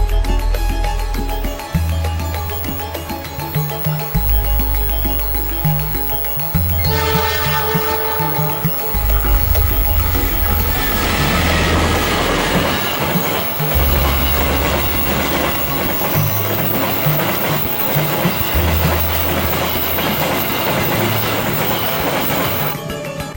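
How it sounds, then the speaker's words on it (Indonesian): A freight train rolls past in a teak forest near Saradan, arriving from the Solo direction. It is loud and close, with a steady rumble and rhythmic clicks of the wheels over rail joints, and it fills the whole stretch without letup. "datang kereta barang dari arah Solo"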